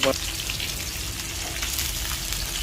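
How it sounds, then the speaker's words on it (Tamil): Fish fries in a pan with a steady, close, even sizzle and hiss that holds throughout without a break. "அது மேலே மீன் வறுத்துக்கிட்டு இருக்கிறோம் மீன் பொரியல் ரெடி ஆகிட்டு இருக்கு"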